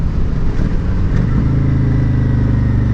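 Older sport bike riding along the road, its engine a steady loud drone throughout with a slight shift in pitch partway through, no talking over it.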